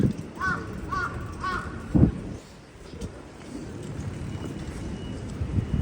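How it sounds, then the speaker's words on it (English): Three hoarse caws from a big crow in quick succession, fairly close, on a morning street in Ikebukuro, Tokyo, followed by quieter outdoor ambience with wind rumble and a brief thump. "Look at that crow."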